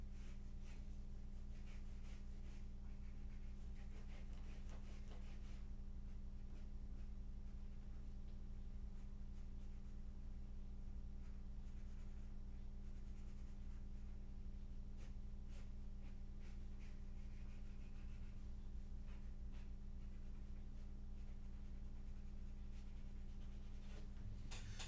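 A colour pencil scratches a center line across paper during a sketch, faint close scraping strokes over a low steady background hum, with no talking.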